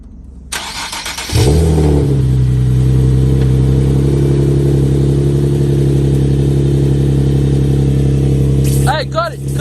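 A Nissan 370Z engine cranks and catches at about 1.5 seconds, then settles into a loud, steady idle that runs without a break. A brief voice cuts in near the end.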